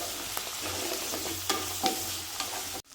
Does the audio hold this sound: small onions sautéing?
yes